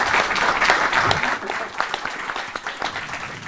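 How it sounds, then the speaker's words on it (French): An audience claps after a science talk on the promises of the universe: dense, steady applause that thins slightly toward the end, with no voices over it. "on vous applaudit à nouveau"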